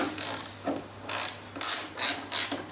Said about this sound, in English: So you'll need a 4mm Allen key to take this top screw out,